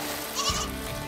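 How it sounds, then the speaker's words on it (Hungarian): Goats on a raft bleat in a cartoon, one wavering bleat rising clearly over a continuous musical background. "Hallottam, hogy itt vannak a kecskéim."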